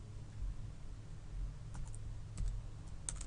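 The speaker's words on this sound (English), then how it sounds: "I'm going to start typing a character." Rapid keystrokes clatter on a computer keyboard at moderate distance, irregular clicks clustering into short bursts with brief pauses between them, over a low steady room hum.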